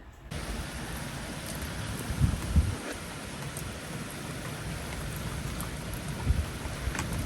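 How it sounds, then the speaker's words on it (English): Heavy rain pours down steadily and close, a dense continuous hiss with occasional low rumbles of thunder rolling underneath. "the sky just opened, and it is pissing down. There's thunder, there's lightning, all of it."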